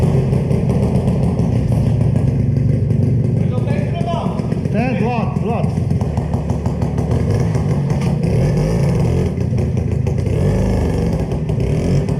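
A small Dutch-style collector motorcycle, built from assorted parts, idles with a steady, loud low rumble, heard close up while someone talks over it.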